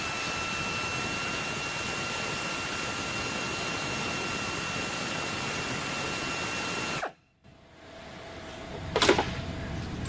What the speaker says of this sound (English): let's get this one last bolt off